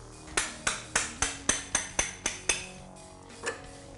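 A small hammer strikes a punch to drive out a pin on a BMW R 1200 GS motorcycle during suspension replacement: about nine sharp metallic taps at a steady rhythm, a pause, then one softer tap, close and alone.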